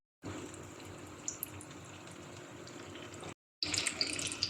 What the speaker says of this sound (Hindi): अब हम इसको अलट पलट करते हुए 1 से 2 मिनट क्रिस्पी होने तक फ्राई कर लेंगे